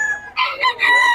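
A white Kelso gamefowl rooster crows loudly and close by in one long, wavering call, with no voices over it.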